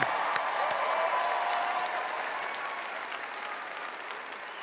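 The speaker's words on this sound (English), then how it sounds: "Let's have another round of applause for the best anthem." A graduation ceremony audience applauds after the anthem, a dense wash of clapping that holds steady and then slowly fades.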